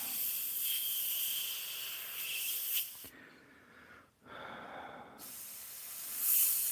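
An airbrush sprays paint onto a Monogram Typhoon model kit, giving a steady close hiss that cuts out for about two seconds and then resumes, with no talking.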